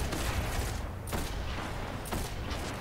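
Rapid automatic gunfire from the Destiny multiplayer shooter game, a dense continuous burst with two brief dips, loud and close throughout.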